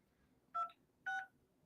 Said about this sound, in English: Using your touchtone phone, please enter your PIN number.